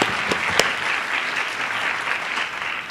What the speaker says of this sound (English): We can give you an applause now.